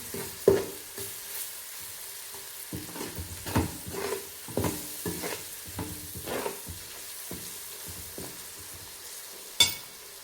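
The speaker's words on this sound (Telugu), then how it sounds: "అల్లం వెల్లుల్లి పేస్ట్ మంచిగా నూనెలో వేసుకోవాలి పచ్చి వాసన పోయేదానికి" Ginger garlic paste frying in hot oil for a chicken curry, a steady sizzle broken by several sharp stirring scrapes and clacks, including a louder knock near the end; no one speaks.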